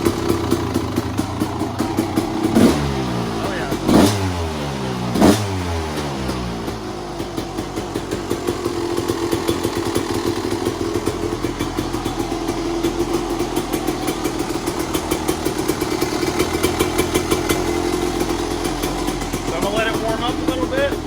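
A Husqvarna WR250 two-stroke motorcycle engine idles steadily while warming up, with a few sharp revs near the start before settling into a continuous, close, rattling idle.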